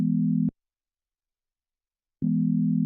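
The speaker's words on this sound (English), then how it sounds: "we can combine some oscillators to create a chord." A chord of three combined synthesized sine wave oscillators plays as a steady, pure tone. It cuts off after half a second, then returns after a short silence.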